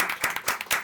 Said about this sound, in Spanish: Un aplauso por favor para nosotros.